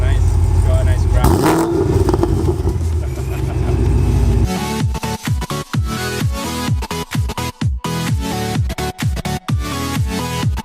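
A supercharged Corvette Z06 with a ProCharger D1SC running 7 pounds of boost for about 700 horsepower and a loud exhaust. A heavy roar leads into repeated rising revs, loud and close, with possible voices underneath.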